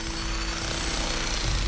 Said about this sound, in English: Very hard to jackhammer in that, but I'm just on the last piece now